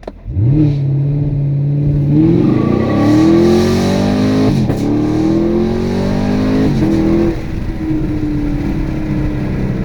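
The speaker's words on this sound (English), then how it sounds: "Now, you floor the brake and then floor the gas as fast as you can." A 2016-2019 Camaro SS automatic launching from a standstill on launch control: the V8 holds a steady high idle, then roars loudly as it accelerates through rising revs with a couple of quick shift breaks, close and continuous.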